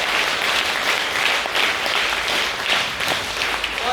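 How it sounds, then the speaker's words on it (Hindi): Audience applause for a cadet at an NCC certificate honour ceremony, steady dense clapping from a crowd that holds evenly for the whole stretch without pause. "एक बार उसके लिए भी तालियां।"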